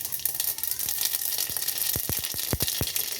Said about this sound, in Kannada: ಇದಕ್ಕೆ ಎಣ್ಣೆ ಕಾದ್ಮೇಲೆ ಒಂದು ಸ್ವಲ್ಪ ಸಾಸಿವೆ